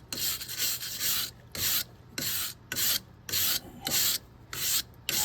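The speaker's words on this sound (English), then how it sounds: "Cleaning up the studs that go into the wheel studs that hold the tire on." Wheel studs that hold a tire on are scrubbed clean by hand, giving a rhythmic series of about nine rasping strokes, each lasting around half a second, close and fairly loud with no voices.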